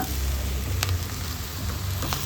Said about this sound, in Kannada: ಇವಾಗ ಬೇಯಿಸಿಟ್ಕೊಂಡ ಬೀನ್ಸನ್ನು ಸೇರಿಸ್ಕೊಳ್ಳೋಣ